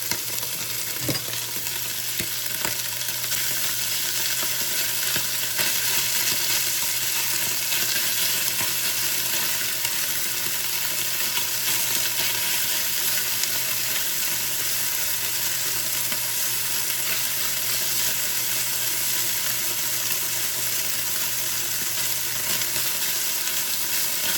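Food browning in a pan gives a steady, loud sizzle and frying hiss for a long stretch, with occasional scraping and stirring knocks near the start and no talking.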